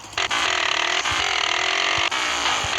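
A harsh, raspy modded car exhaust in Grand Theft Auto: San Andreas drones loudly with a couple of short drops between revs, steady and close.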